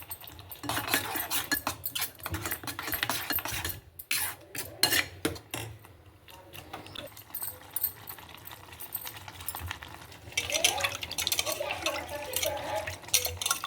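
Tamarind water being stirred into a rasam tempering in a pot, with rapid spoon scraping and clinking against the metal pot, busy and close, pausing briefly midway before resuming.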